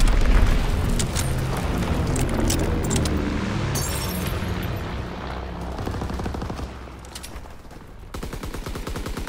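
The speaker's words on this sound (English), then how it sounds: "Enemy bomb incoming. Get to cover." Heavy booming blasts and rumbling explosions from an enemy bomb strike in a Call of Duty shooter, loud and dense throughout with crackling debris, then sharp rapid bursts of gunfire toward the end.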